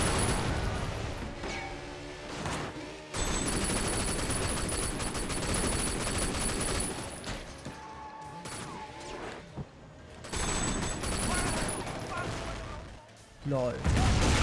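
Gunfire rattles through Sleeping Dogs, with dense bursts of shots and crashes that keep up for most of the stretch and drop away briefly twice.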